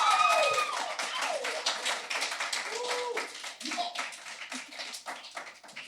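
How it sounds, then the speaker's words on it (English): A live crowd at a podcast taping claps hands to vote, giving dense, rapid, overlapping claps with some cheering voices and whoops mixed in, fairly close and tapering slightly. "Clap your hands."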